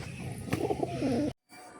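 Rooftop pigeons coo in a low, throaty burble close by as they squabble over grain, with a brief wing flutter before the sound cuts out for a moment.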